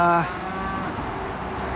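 A cow gives a loud, close, deep moo that cuts off abruptly while cattle are being brought in and sorted on a farm, followed by steady outdoor rumble and shuffling.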